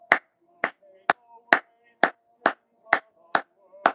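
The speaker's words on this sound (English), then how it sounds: "You gotta give them a round of applause." Nine sharp, evenly spaced claps ring out about twice a second, close and loud, with faint tonal background sounds between them.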